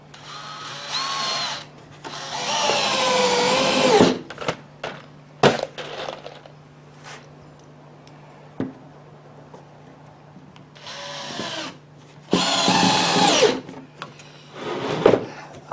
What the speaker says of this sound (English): I'm going to put a couple screws in to hold that way